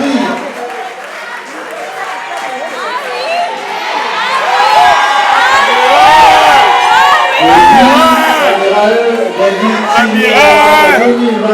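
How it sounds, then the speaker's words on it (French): Crowd at an awards ceremony cheering and shouting with applause mixed in, loud and sustained, swelling midway with many overlapping excited voices whooping. "Un tonnerre d'applaudissements pour l'artiste qui va s'approcher et récupérer son prix."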